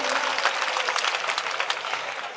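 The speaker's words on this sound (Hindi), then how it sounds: "अगर आप सब सुनना चाहते हैं तो एक बार जोरदार तालियां बजाकर मुझे रोक लेते हैं" Dense, continuous audience clapping fills a mushaira hall, a loud steady patter of many hands with no pauses, sustained throughout.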